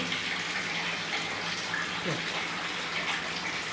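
Water splashes and gushes steadily as a child is washed at bath time, a close continuous wash with a faint voice in the background.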